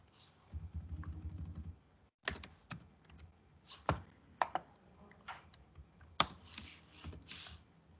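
Computer keyboard typing of assembly code, with a brief low hum at first, then irregular bursts of close key clicks and clacks with short pauses between them.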